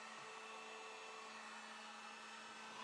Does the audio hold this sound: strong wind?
no